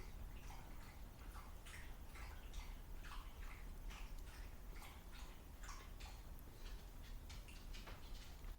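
Quick, wet lapping clicks from a dog drinking out of its water bowl continue in an even rhythm for several seconds, close by and fairly quiet, with no talking.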